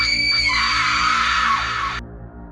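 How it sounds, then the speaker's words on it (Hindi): A shrill, drawn-out scream used as a horror effect rises over a low droning bed for about two seconds, then breaks off sharply, leaving only the dark hum. "चीखना"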